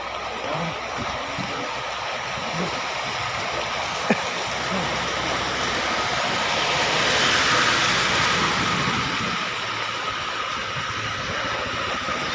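Floodwater runs along a street in Parañaque during a flood, a broad continuous rushing wash that swells slightly midway, with faint background sounds.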